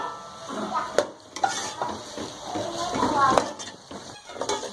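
Tomatoes stirred into onions and garlic-ginger paste frying in a pan, with a spoon scraping and clinking against the pan over a soft sizzle, several distinct knocks mixed in.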